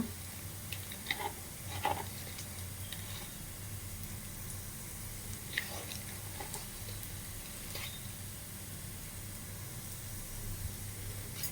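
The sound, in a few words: food roasting and sizzling in a pan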